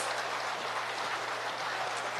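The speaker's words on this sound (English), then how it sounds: "Let us give the organizers tremendous applause." Audience applause at a Labour party conference, a steady dense patter of clapping hands, moderately distant and unbroken for a couple of seconds.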